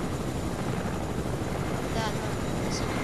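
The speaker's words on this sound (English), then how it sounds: "Oh, there's another helicopter." A helicopter in the video game Fortnite whirs with a steady, dense rotor wash that fills the whole moment at a moderate distance, with no talk over it.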